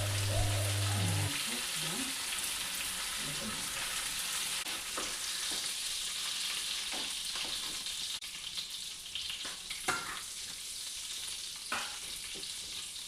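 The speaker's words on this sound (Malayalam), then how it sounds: "ചെമ്മീനെല്ലാം മൂത്തു എണ്ണയിൽ നിന്ന് ഇനി നമുക്കത് ഊരിമാറ്റാം" Prawns sizzle and crackle steadily in hot oil, a dense close frying hiss with occasional stirring clinks and light sputters throughout.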